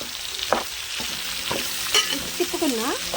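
A spoon stirs potato and cabbage curry in a pan, scraping out several distinct strokes over a steady background sizzle, with a short stretch of whistling or tonal sounds near the end.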